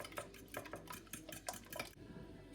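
Fork clinking against a bowl while beating an egg mixture for French toast, a run of quick light metallic taps and scrapes in an uneven rhythm, close and fairly quiet.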